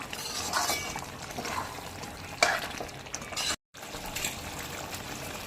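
Water splashes into masala frying in a pan for Tamil-style chicken curry, a brief loud pour and sizzle rising over steady stirring and crackling, with a short silent gap before the sizzling resumes.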